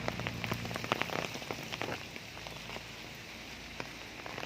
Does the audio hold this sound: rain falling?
yes